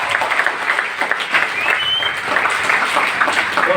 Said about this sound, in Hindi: तालियां हो जाए इनके लिए सबके लिए